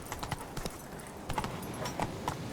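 Hooves of Roach, Geralt's horse in The Witcher 3, clip-clopping in quick irregular clusters at a trot, close and fairly quiet against a low background.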